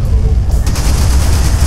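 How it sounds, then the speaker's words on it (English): Gatling gun fired in the space shooter Everspace: a dense, continuous rattle of rapid shots with a heavy low-end roar, loud and close, unbroken throughout. "I should be able to take care of him with just a Gatling though"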